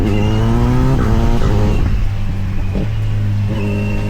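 A Kawasaki Versys 1100 SE inline-four adventure motorcycle engine revs loudly and close, its pitch rising and falling through several throttle blips with a smooth, steady drone between.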